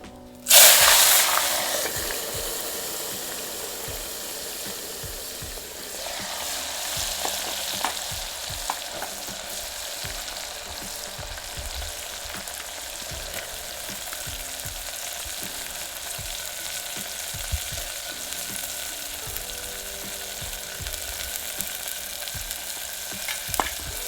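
Onion dropped into hot oil already tempered with cumin and asafoetida gives a loud burst of sizzling, which settles into a steady, close frying hiss with occasional stirring clinks. It is cooked for a whole-garlic curry.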